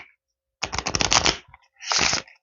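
A deck of tarot cards is shuffled by hand in two bursts, a rapid riffling flutter of sliding cards followed by a shorter second riffle, close and crisp in a quiet room.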